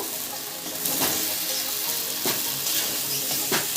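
Potatoes going into hot spiced oil in a pan for a Bengali potato and cauliflower curry, giving a steady close sizzle with occasional stirring scrapes, no voices.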